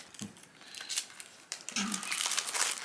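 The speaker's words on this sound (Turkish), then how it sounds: "Poşetimizi açtık şöyle." A plastic bag holding a Hot Wheels toy car, an Acura NSX GT3 Evo, is torn open up close in a few crinkling, ripping bursts that build into continuous rustling of the plastic.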